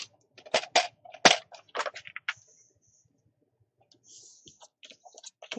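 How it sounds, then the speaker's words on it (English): Paper trimmer slicing the flaps off card library pockets, a series of sharp crunching clicks in quick bursts up close, then a pause and a few softer scattered clicks. "I'm going to use my trimmer."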